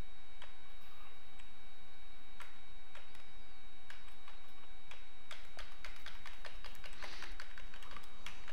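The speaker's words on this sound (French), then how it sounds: "Bon là je suis en train de claquer le clavier." Hard, rapid keystrokes clatter on a computer keyboard, sharp clicks coming in quick irregular bursts that thicken toward the end, close and alone over a faint steady electronic hum.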